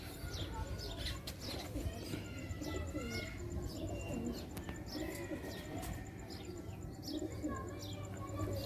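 Teddy breed pigeons coo repeatedly in a loft, soft rolling calls mixed with bright chirps and tweets from other birds over a steady background hum, continuing throughout.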